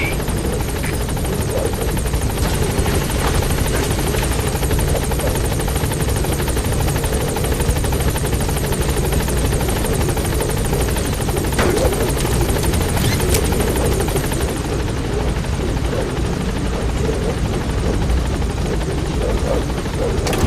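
A helicopter idling at a landing zone in the video game Metal Gear Solid V: The Phantom Pain, a loud, constant rotor thrum and turbine whine throughout, close and unbroken, with no speech.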